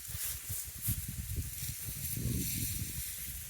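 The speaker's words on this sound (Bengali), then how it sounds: "আসলে বাতাস তো প্রচুর" Strong wind blows through trees in steady gusts, a close rushing roar with low buffeting rumble, continuous with no voices.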